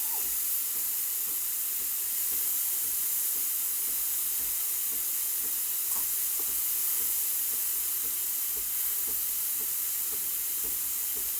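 The steam wand of a Breville Barista Express BES870 espresso machine hisses steadily and continuously, an even, unbroken rush of steam with faint bubbling texture and no voices.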